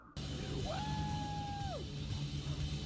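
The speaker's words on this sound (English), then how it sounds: "Jesus Christ, Cillian's screaming a lot." A man's drawn-out scream from the 2002 film 28 Days Later, a sustained pitched yell that swells, holds steady for about a second, then drops away over a continuous low hum.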